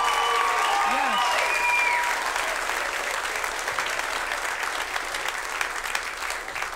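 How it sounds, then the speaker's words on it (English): Comedy club audience at Snickerz applauding servicemen and women, a dense sustained wash of clapping with some cheering that starts full and slowly thins, while a voice briefly speaks near the start. "give a round of applause for our servicemen and women"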